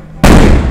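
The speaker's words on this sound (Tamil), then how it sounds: "பட்டாசு என்னடா இப்படி வெடிக்கிறீங்க" A single sudden, very loud bang of a firecracker bursting close by, sharp onset followed by a brief ringing roar.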